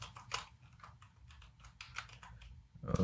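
Rapid typing on a computer keyboard, a steady flurry of close, light key clicks that runs for a few seconds with no talking, ending on a slightly louder clatter.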